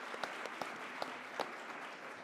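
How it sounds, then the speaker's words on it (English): Applause from attendees at a scientific meeting, faint and distant, a thin scattered patter of clapping with a few sharper individual claps standing out. "let's give ourselves a round of applause"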